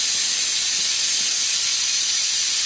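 A pressure cooker on a switched-off hob venting its pressure after cooking a butternut, potimarron and carrot soup, giving a loud, continuous, close steam hiss that stays steady throughout.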